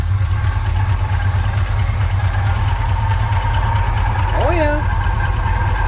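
A 1966 Dodge Coronet engine runs at a steady, rumbling idle, close and loud, with a low rhythmic throb throughout and a brief voice near the end.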